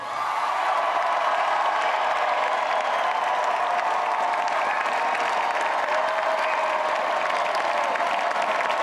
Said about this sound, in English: Listen to how they applaud this free stuff.